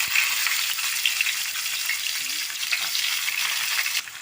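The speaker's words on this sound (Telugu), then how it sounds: "ఫస్ట్ అయితే ఆనియన్స్ అయితే ఫ్రై చేస్తా." Onions frying in hot oil with mustard and cumin seeds, giving a loud, close, continuous sizzle with light stirring throughout. The sizzle drops off abruptly near the end and no one talks.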